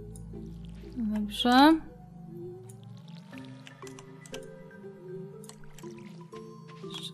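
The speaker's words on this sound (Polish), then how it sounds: "Dobra, można podlewać." Watering crops with a watering can in the video game Stardew Valley: a short, bright bubbling pour effect rises and fades, then soft game music and tones continue, with someone speaking briefly over it.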